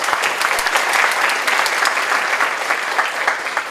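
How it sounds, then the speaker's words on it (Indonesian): A forum audience in Bandung, Indonesia claps steadily for a few seconds, a dense, continuous patter of many hands with no voices standing out. "Tepuk tangan dulu buat Kang Emil."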